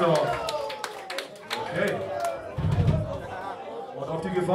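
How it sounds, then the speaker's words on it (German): Concert audience at a club show applauding between bands, scattered claps and cheers mixed with crowd chatter, moderately loud and uneven, with a voice speaking over the room. "Und jetzt mal Applaus für die Saarländer und die Koblenzer zusammen."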